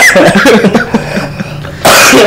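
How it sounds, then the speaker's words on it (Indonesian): A person coughs several times in quick, harsh bursts, close up, ending in a louder throaty cough. "Batuk gini kan."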